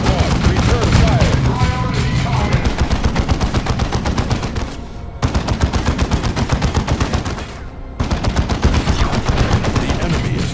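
Squads exchange fire in Warhammer 40,000: Dawn of War II, loud continuous rattling bursts of automatic gunfire with brief pauses between volleys, near and dense, with faint voices mixed in.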